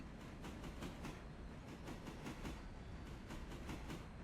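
A passenger train in the video game Railroader rolls past in a siding scene, giving a steady rumble with a regular clickety-clack of wheels over rail joints, moderately close and even throughout.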